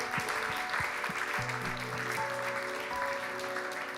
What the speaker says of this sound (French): Maintenant, oui, on peut applaudir pour le Seigneur.